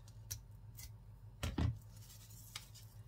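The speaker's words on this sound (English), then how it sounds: "So we'll take the same size Velcro and we'll just cut that in half." Scissors snip through a strip of Velcro, a few short crisp cuts with one louder crunching snip in the middle, close and quiet with no talking.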